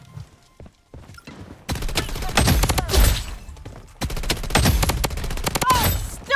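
Rapid bursts of KAG-6 rifle fire with tracer ammo in a video game crackle loud and close in two long volleys, separated by a brief pause after a few sparse opening shots.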